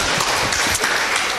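Continuous applause from a seminar audience, dense and steady clapping filling the room for a moment, with no talk over it.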